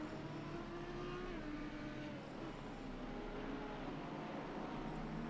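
GT3 race cars, including a McLaren, racing in the video game ACC, with a steady loud engine drone and whine of several cars lapping together, continuous and unbroken, with faint talk beneath.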